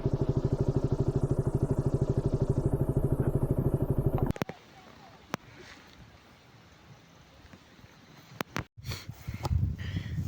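Motorcycle ridden on a road near Kohima, a loud close rapid engine throb for about four seconds, then cutting to quieter rustling, wind and clatter with brief louder bursts.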